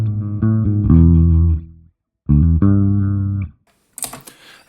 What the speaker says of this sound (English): This one is comp bass, a little bit of compression added.